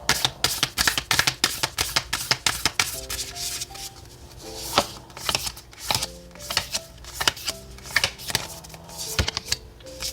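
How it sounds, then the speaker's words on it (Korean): Oracle cards shuffled and laid out one by one for a tarot reading, a steady run of crisp, close riffling and sliding snaps with soft taps of cards set down, under faint background music. "오라클 카드를 각 라인별로 한 장씩 놓고 같이 리딩을 할게요"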